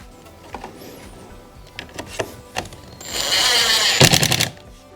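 Close-up tool clicks and a short whirring burst of a driver running screws back into a VW Polo Mk5 side mirror, with scattered taps and handling noises around it.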